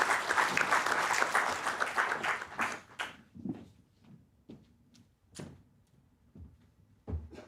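Audience applause for a speaker at an Indian arbitration conference panel session, a dense roll of clapping for about three seconds that fades, then scattered thumps and handling knocks in a quiet hall.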